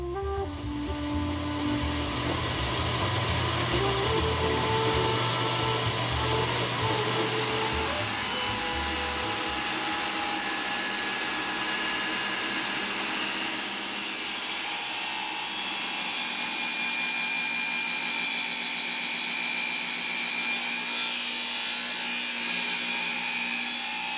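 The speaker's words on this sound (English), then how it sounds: "Because the wood is a little thinner, we have to clamp two together and we'll trim it off to size." A power tool trims two clamped thin wood pieces to size for a shamisen body, a loud steady whining drone that runs unbroken for over twenty seconds, changing pitch partway through.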